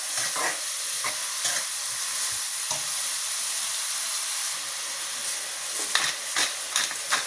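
Sliced onions fry in a pan with a steady, close sizzle and hiss, broken by occasional scraping clicks from stirring.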